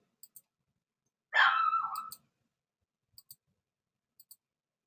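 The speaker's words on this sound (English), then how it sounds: "They often bark at me to be quiet because I woke them from a nap." One short burst of small dogs yapping and barking together, close and sharp, set between faint ticking clicks in an otherwise quiet room.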